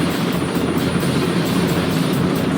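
Steady helicopter rotor and engine drone from a Teenage Mutant Ninja Turtles video game on PS2, loud and continuous with a constant whirring throb and no talking.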